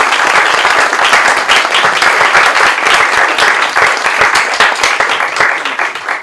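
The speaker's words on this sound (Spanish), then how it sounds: "es un aplauso por favor para todos" Loud, close audience applause at a student research journal presentation, many hands clapping in a dense, continuous patter that holds steady throughout.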